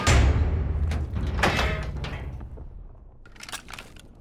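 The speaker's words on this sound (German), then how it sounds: "Öffnen Sie die Tür." A door swings open in the World War II shooter Call of Duty WW2 with a heavy thud, then rattling clatter and creaks that fade away.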